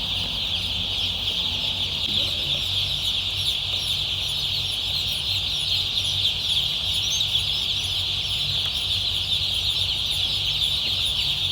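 Crates of poultry chicks peep in a constant, dense high-pitched chorus, steady and close throughout with a low background hum and no talk.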